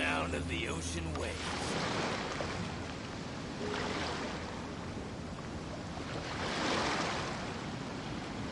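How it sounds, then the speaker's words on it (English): Ocean waves wash in the Genshin Impact game world, a broad continuous surf roar with swells building around four and seven seconds, mixed with wind-like hiss and a low steady tone near the start. "The sound of the ocean waves."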